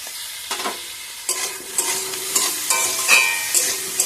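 Eggplant pieces are stirred and fried in a pan with green chili and salt, producing a series of loud scraping, sizzling bursts at irregular intervals over a quieter background hiss, with no speech.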